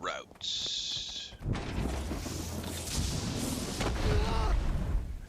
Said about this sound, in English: Who is shooting shit at me?